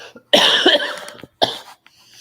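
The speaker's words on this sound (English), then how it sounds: "You need to get that cough checked out" Two harsh coughs close by, the first longer and throatier, the second shorter, separated by a brief pause.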